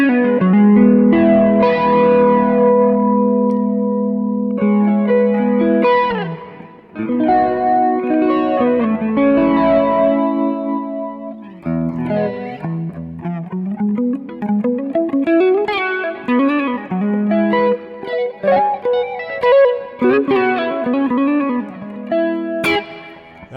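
An electric guitar through a Kemper Stage plays shimmering chords and melodic lines soaked in swirling chorus and flanger modulation, loud and continuous with brief pauses.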